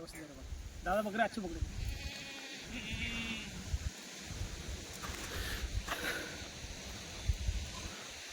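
Dairy goats bleat in several wavering calls, some close and some farther off, while people talk over a steady outdoor background.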